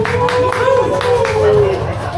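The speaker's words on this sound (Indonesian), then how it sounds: "Tepuk tangan dulu untuk para perempuan." Audience at an informal urban camp gathering in a coffee shop claps for the women present, a short burst of clapping mixed with crowd murmur and a sustained tonal hum underneath.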